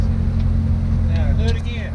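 A Chevrolet Corvette C7 Z06 rolling slowly forward, a close, loud, low engine rumble steady throughout the short moment, with people talking over it.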